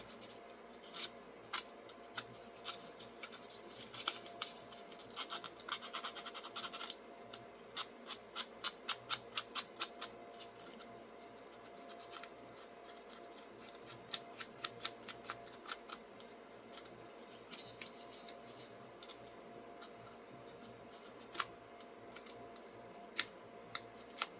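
Hand filing and sandpapering the edge of a cut plastic Sig Sauer P320 AXG grip module, a quiet run of short scraping strokes in an irregular rhythm, close and faint over a low steady background hum.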